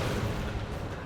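A short, heavy, muffled boom of an explosion in the video game Broforce, loud and dense in its low end, lasting about a second.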